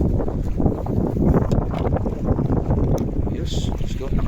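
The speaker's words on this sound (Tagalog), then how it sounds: "Lakas ng hangin." Strong wind buffets the microphone in a steady low roar while fishing at sea off Bahrain, with faint sounds of water and a boat underneath.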